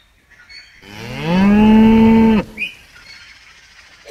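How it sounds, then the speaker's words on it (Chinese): A single cow gives one long, loud, close moo that rises and then holds steady for about a second and a half before stopping abruptly, with quiet background around it. "黄牛，"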